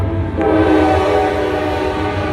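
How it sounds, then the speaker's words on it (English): A train passes near Bessemer, Alabama, its loud horn blaring in a sustained, harmonic blast over the heavy rumble of rolling rail cars, very close and continuous. "Excuse the train."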